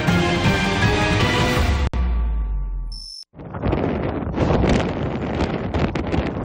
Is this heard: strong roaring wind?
yes